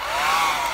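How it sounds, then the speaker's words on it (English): A blow dryer fluffs out a crocheted yarn pom-pom, producing a loud, close, continuous rushing whoosh of air that keeps a steady level through a brief burst, with no voices. "a trick to get your pom-pom looking great is to use a blow dryer to fluff it out"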